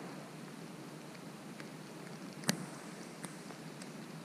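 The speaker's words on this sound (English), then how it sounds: "It just started raining now too." Steady rain hisses down on the River Wye, a soft continuous wash with a few distinct drip taps standing out, heard alone without any talking.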